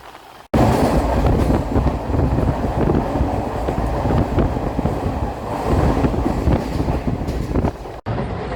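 The Calicut Jan Shatabdi passenger train runs between Ernakulam and Kozhikode, with a loud, steady rumble and rattle from inside or beside the carriage, wind buffeting the microphone and a faint rhythmic clatter over the rails.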